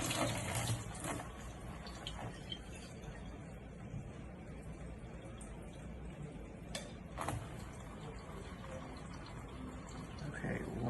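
Kitchen tap water runs in a steady low hiss while being left to warm up, with a few small clicks and knocks over it and no voices.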